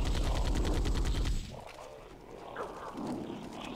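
Rapid turret gunfire from Halo Custom Edition, a dense, loud burst of repeated shots for about a second and a half, then it cuts off into quieter game ambience.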